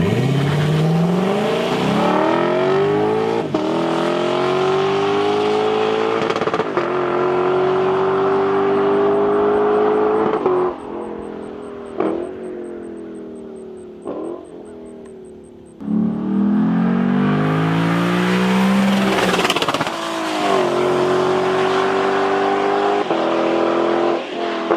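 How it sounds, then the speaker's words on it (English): A 2021 Lexus LC500 Convertible's exhaust and engine rev up repeatedly, sweeping through climbing pitches, dropping back and rising again, loud and close with a deep burbling tone and a brief quieter lull midway. "The exhaust noise. This thing sounds incredible."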